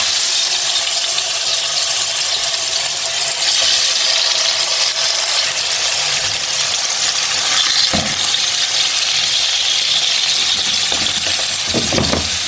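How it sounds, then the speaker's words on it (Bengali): Fish and aubergine sizzle in a hot wok, a steady loud crackling fry with occasional clinks and scrapes of a utensil against the pan near the end. "তা এখন মাছগুলো ভেজে নিই ওর আব্বু আসার আগে।"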